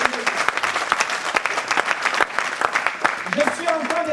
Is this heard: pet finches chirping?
no